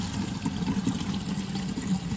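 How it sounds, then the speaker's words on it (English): Water drains steadily from a household pipe line at a shutoff valve, making a soft continuous trickling hiss, close and fairly faint, with no talk over it. "we're just going to go and let the water out"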